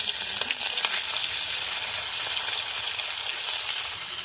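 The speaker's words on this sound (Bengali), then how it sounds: "এবার মাছটা আমি কড়ার মধ্যে দিয়ে দেবো" Turmeric-coated chhatir fish fries in hot oil in a wok, producing a loud, steady, close sizzle that holds evenly throughout with no talking.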